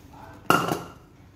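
A single sharp metallic clank from a used Japanese 6-litre pressure cooker pot being handled, close and brief, then quickly ringing out against quiet room tone.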